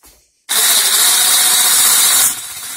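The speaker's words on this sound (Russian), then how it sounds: "Сейчас будем взбивать." An electric mixer switches on abruptly and whirs loudly and steadily while whipping dough for Tatar chak-chak, then its pitch drops slightly near the end. There is no talking.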